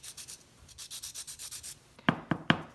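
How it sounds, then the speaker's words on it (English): Pencil graphite lead rubbed against sandpaper in a quick run of about a dozen short, even scratchy strokes, close and soft, then three sharper taps or scrapes at the end. "if you want a sharper point, you can just pick up your sandpaper and sharpen it"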